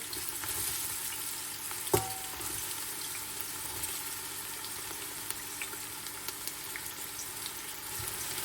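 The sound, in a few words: chopped onion frying in hot oil in a pot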